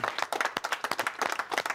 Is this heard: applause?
yes